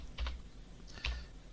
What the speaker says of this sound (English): So viewers, we go to Google and type there